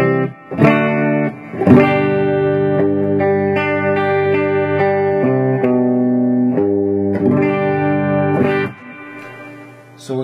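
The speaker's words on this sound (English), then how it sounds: "here is the clean signal straight from the amplifier into the guitar with no effects, just a little reverb from the amp" Clean electric guitar played through a Marshall amplifier with no effects and only a little amp reverb, ringing out strummed chords and single notes that sustain loudly and evenly.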